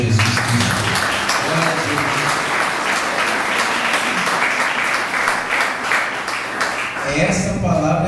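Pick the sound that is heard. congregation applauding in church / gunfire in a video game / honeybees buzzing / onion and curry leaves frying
congregation applauding in church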